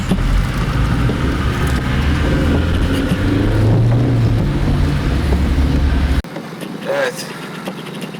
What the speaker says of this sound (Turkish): Motorun sesi size geliyor mu bilmiyorum ama altı silindirin sesi